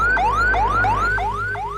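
An ambulance siren blares loud and close, a rapid repeating yelp that sweeps up and snaps back about three times per second, with no talk over it.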